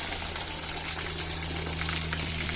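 A small waterfall in Todoroki Ravine, Tokyo, gives off a continuous close rush and splash of falling water. A low steady hum sits beneath it.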